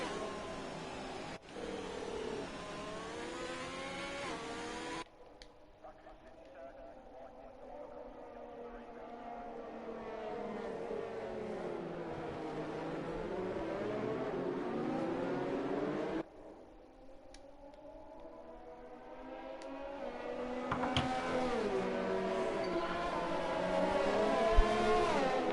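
Simulated race cars circle on a formation lap at the Azerbaijan circuit in a racing video game, drivers weaving to warm their tyres; engines drone and rise and fall continuously, with abrupt cuts between views and a commentator's voice over them.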